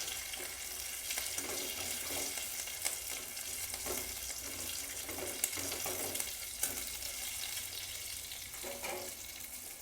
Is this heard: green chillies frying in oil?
yes